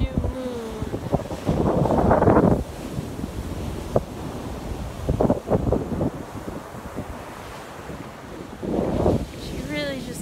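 High-tide ocean waves wash onto Long Beach, with surging surf and foam hissing in repeated swells under gusty wind buffeting the microphone.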